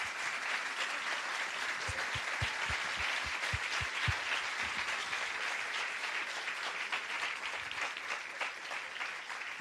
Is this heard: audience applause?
yes